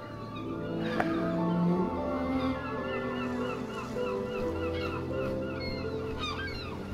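Seagull cries in the video game Rime, heard over a steady ambient music bed with soft tonal layers; several short, faint calls rise and fall across the seven seconds, with no talking.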